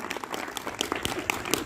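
Audience applause at a public gathering, a brief burst of scattered, moderately loud hand claps from a crowd, with no one talking over it.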